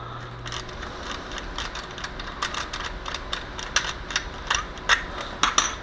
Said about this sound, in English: Here I'm putting on a tripod mount.